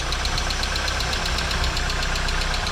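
An idling Volkswagen MK2 Jetta engine with a rapid, even ticking tapping over a low steady rumble, close and continuous with no voices.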